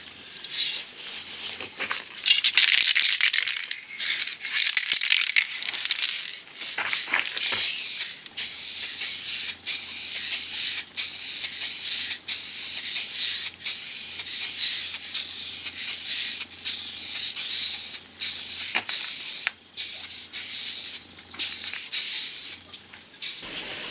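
Spray can of clear coat hissing in long bursts as a third coat goes onto sun-damaged paint, with short breaks between passes, close and steady, no talking.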